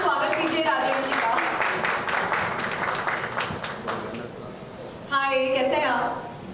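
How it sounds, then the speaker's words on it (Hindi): An audience applauding to welcome a guest onto the stage at an app launch event, a dense patter of clapping that fades away under a voice speaking over a microphone. "Please जोरदार तालियों से स्वागत कीजिए राजेश जी का।"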